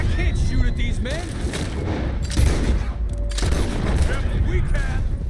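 Rapid volleys of gunfire, with pistol and rifle shots crackling over rumbling hoofbeats and wagon noise during a chase in Red Dead Redemption 2, dense and continuous throughout.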